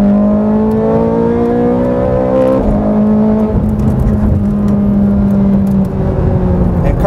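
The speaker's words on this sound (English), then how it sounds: "Here's what this car sounds like at full tilt." A twin-supercharged Ferrari 430 Scuderia engine roaring at full throttle in second gear, loud and close, its pitch climbing and shifting steadily with no talking.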